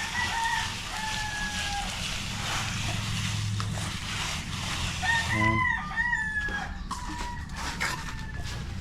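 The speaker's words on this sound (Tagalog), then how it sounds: "mas may mga manok" Roosters crow repeatedly on a farm, several loud drawn-out calls overlapping from nearby, with a brief spoken word and outdoor background noise between them.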